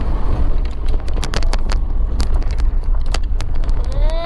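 A car drives along a road in the Konkan region, a loud continuous rumble of engine and road noise with heavy wind buffeting against the microphone and scattered clicks and knocks from inside the cabin.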